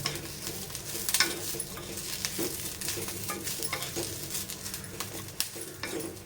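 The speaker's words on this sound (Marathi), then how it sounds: "आता हे खोबरं आपण छान असं खरपूस भाजून घेऊया।" Grated coconut dry-roasting in a pan with garlic cloves and ginger over medium gas, giving a steady close sizzle with soft stirring scrapes throughout, no voices.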